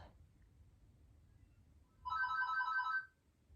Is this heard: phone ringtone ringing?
yes